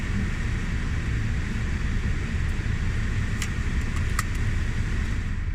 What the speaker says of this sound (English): The car is warming up.